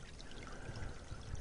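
Cold, high mountain creek swollen after rain, its water rushing and pouring in a steady close wash that grows slightly louder toward the end, with no voices.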